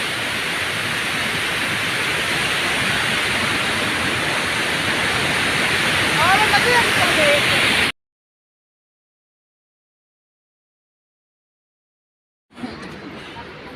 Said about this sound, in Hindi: बीच में गंधों के बाद एक झरना है जो बहुत खूबसूरत है।